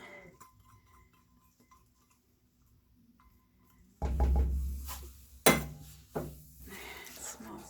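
Hot process soap is stirred in a crock pot, faint light clinks and ticks at first, then louder close scraping and knocking of a utensil against the pot in uneven strokes.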